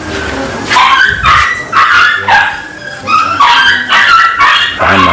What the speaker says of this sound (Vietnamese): chó